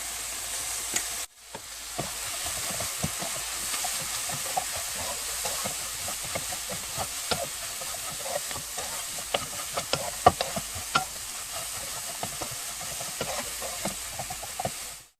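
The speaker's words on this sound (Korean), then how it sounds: "오래 볶지 않아도 됩니다. 살짝 숨이 죽을 정도만 볶아주시고" Shishito peppers and anchovies stir-fried in a pan with syrup, sesame oil, sesame salt and garlic, giving a steady close sizzle with scattered crackles and scraping stirs throughout, no voices.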